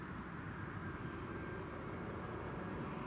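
EasyJet airplane arriving at Amsterdam Schiphol Airport from London Luton, a steady, continuous engine roar and rushing rumble heard at a distance without pauses or talk.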